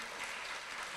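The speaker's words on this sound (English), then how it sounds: "Let us all give a round of applause again for our youth." An audience at a women's conference applauds, a brief, even wash of clapping from many hands at moderate volume.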